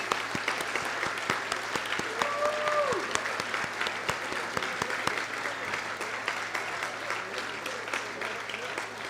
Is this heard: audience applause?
yes